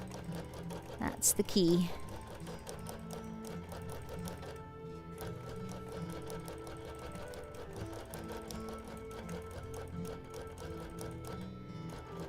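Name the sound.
sewing machine free motion quilting a table runner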